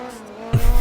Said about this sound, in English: Pop the handbrake and pow over.